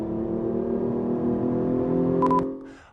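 A Hyundai Genesis Coupe with a 3.8-liter V6 and an intake noise generator revs in a smooth, steady drone for about two seconds, building slightly before a short beeping chirp and a quick fade.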